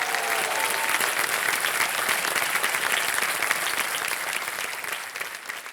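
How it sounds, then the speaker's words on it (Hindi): A studio audience at a televised quiz show claps for a young contestant, a steady and full burst of applause that tapers off toward the end. "तालियां बज जाएं चैतन्य जी के लिए।"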